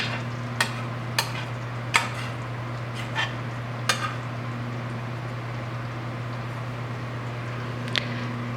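A spoon stirring food in a hot dish just out of the oven, with a few sharp scrapes and clinks against the dish spaced apart over a steady low hum.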